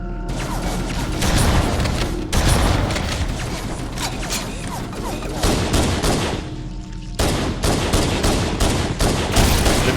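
Rapid, loud pistol gunfire from the video game Halo CE, shots cracking in quick repeated bursts with booming impacts and chaotic combat noise, with two brief pauses before the firing resumes.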